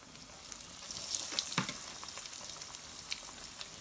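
Chicken legs fry in oil with a soft, steady sizzle and scattered crackling pops, fairly quiet and close, with one sharper spatter midway and no voices.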